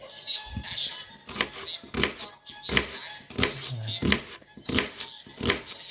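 An onion is chopped finely on a board with a knife, about ten sharp, evenly spaced thuds close by, with a voice faintly audible between the cuts.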